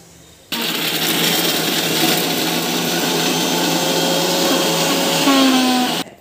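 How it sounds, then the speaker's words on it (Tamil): A mixer grinder grinding coconut chutney starts abruptly and whirs loudly and steadily for several seconds, grinding with a harsh buzzing motor, then cuts off. "சட்னி வந்து அரைச்சிட்டோம்"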